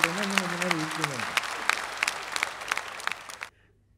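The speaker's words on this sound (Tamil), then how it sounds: "எல்லாரும் அமர்ந்து எல்லாத்தையும் ரசித்து கைதட்டி ஆரவாரம் பண்ணி ரசிக்கிறீங்க" Audience at a Tamil-language speaking event breaks into applause, a burst of close, dense clapping that tapers off and stops suddenly, with a voice briefly heard at the start.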